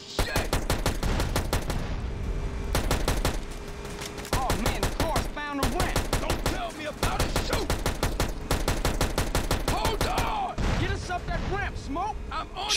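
Explosions and rapid gunfire from the video game GTA San Andreas crackle in dense, repeated bursts with brief gaps, loud and continuous, while a voice talks intermittently over the action.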